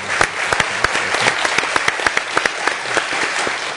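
A conference audience applauds steadily at a Washington policy forum on the Korea alliance, many hands clapping close together in a dense, even wash that runs throughout.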